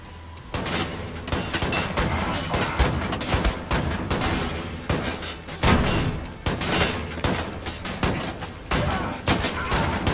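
Shotgun fire in the video game Wolfenstein: The New Order: repeated loud, booming blasts spaced a second or so apart, mixed with chaotic combat noise and brief voice.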